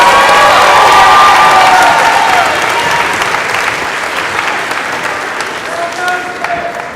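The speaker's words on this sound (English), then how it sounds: "another round of applause for this year's Action Award winners and Unsung Heroes" Loud, close applause and cheering from a crowd at a fourth grade graduation ceremony honoring award winners, with children's shouts over steady clapping that slowly fades across the seconds.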